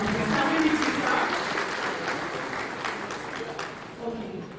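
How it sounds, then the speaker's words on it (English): Audience applause at a formal investiture ceremony for an engineers' association, a steady wash of clapping that tapers slightly, with voices murmuring underneath. "Please give him a round of applause."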